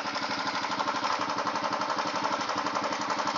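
A Royal Enfield Himalayan motorcycle engine runs steadily during CV carburetor tuning, held at slightly raised revs, giving a rapid, even, thumping beat at close range.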